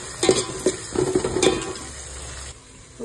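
Coriander and mint are stirred into a frying chicken mixture, with several wet scraping strokes over a soft sizzle for about two and a half seconds before a quieter pause, close by and without talk.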